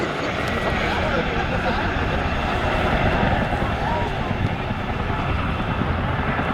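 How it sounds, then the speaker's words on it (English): Boeing Chinook tandem-rotor helicopter flying at an air show, giving a steady loud rotor drone and engine roar throughout, with a public-address voice talking over it. "The raw power and versatility of the Chinook is all down to its iconic tandem rotor design, giving you that whocker."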